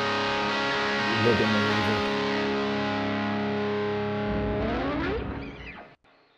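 Electric guitar played through a drive pedal into the dirty channel of a Laney L5 Studio amp with mids boosted, a sustained distorted chord ringing loud and close before bending and cutting off, with a brief spoken word over it.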